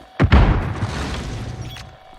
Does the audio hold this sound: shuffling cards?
no